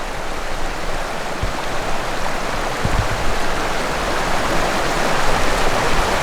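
A creek carrying migrating Kokanee salmon near Lake Koocanusa rushes steadily and loudly, a dense unbroken wash of flowing water close by.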